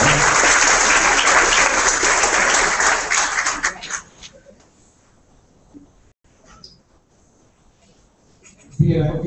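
Loud, dense applause from an audience at a World Asthma Day event, honoring a director; it fills the first four seconds, then fades to near quiet, with a few scattered claps and small sounds before a voice begins at the end.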